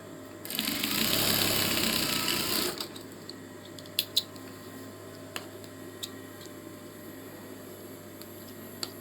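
A sewing machine stitches across a triangular fabric piece while making a bow, running in a steady loud whir for about two seconds, then stopping, followed by a few faint clicks and taps.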